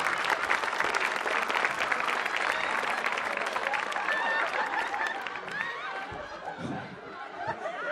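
A studio comedy audience breaks into steady applause mixed with scattered laughter and chatter. The clapping holds strong for several seconds and then thins out toward the end.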